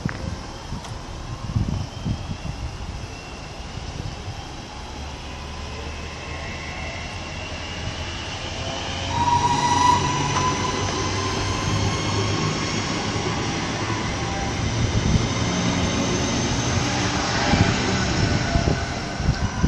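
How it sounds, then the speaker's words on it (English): A London Midland Class 323 electric train pulls away from Birmingham International station, its traction motors whining upward and a rumble building midway, loud and close on the platform with no speech. "now departing is the 1417 London Midland City service back to Birmingham New Street from here"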